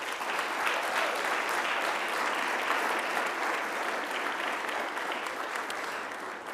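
An audience at a school board business meeting applauds steadily, a dense, even wash of many clapping hands sustained from start to finish, with no speech over it.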